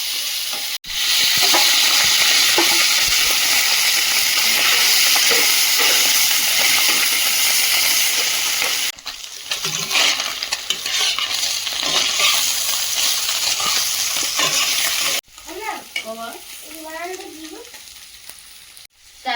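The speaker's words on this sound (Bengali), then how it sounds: "মাছগুলো ভাজতে দেবো এখানে" Fish frying in hot oil in a pan make a loud, dense, continuous sizzle and spatter that drops briefly twice, with scattered clinks and some squeaky tones near the end.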